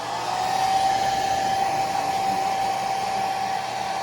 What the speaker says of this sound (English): We'll take my hair dryer.